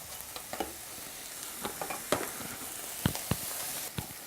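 Spinach stirred into a frying sweet potato and mushroom mix in a pan gives a faint steady sizzle broken by soft scattered clicks and scrapes of a utensil.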